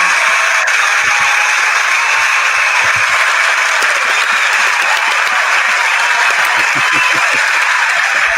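Steady, loud applause from an audience after a poetry reading fills the moment evenly from start to finish, a continuous wash of clapping with occasional low thumps beneath it.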